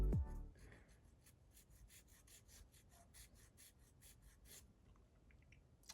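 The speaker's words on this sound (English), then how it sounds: "I'm just going over any area that had support material on, just very delicately sanding down." Quiet, rapid rasping strokes of fine sanding on a small plastic part from a 1:200 Titanic model repeat in an even rhythm, close up and delicate, then trail off.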